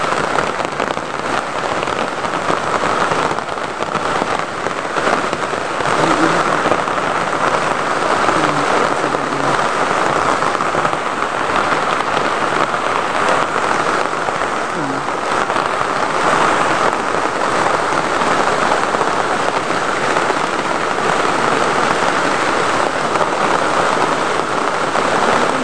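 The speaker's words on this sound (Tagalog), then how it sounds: "Ulan." Steady rain falls for the whole stretch, a dense constant hiss of drops hitting surfaces nearby, with no pauses and no talk.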